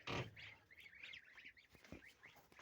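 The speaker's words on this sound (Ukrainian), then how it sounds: "курі наші, качки наші." Faint honking and quacking from chickens and ducks, a loud squawk at the start followed by scattered softer calls at a distance.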